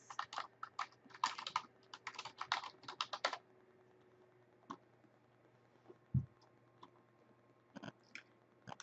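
An email address typed on a computer keyboard, with a quick run of close, light key clicks for several seconds, then a pause and a few scattered taps in a quiet room.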